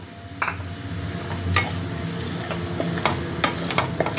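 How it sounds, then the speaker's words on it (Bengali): Grated coconut and potatoes in a frying pan give a close, steady sizzle as a spoon stirs them, the scrapes against the pan coming in irregular taps, with no voices. "তাকে ভালো করে আলুর সাথে মিক্সড করে নিচ্ছি"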